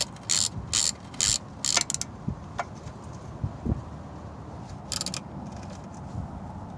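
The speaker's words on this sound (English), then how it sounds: "I'm slowly loosening the fasteners and occasionally tightening them a little" A hand ratchet loosening rear sway bar bushing fasteners on a 1993-98 Jeep Grand Cherokee, several quick bursts of clicking near the mic, pauses between them, then another short burst, with faint knocks in between.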